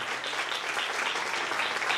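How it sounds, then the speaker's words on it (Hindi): Audience applauding a girl receiving a gift at a children's prize distribution on Resurrection Day, a soft, steady patter of many hands heard from a distance, fairly quiet and continuous. "जोरदार तालियां बेटी हरिका के लिए"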